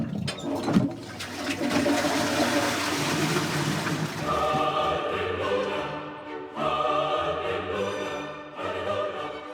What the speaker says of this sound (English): all bodily waste could be removed from the premises by a mere tug on the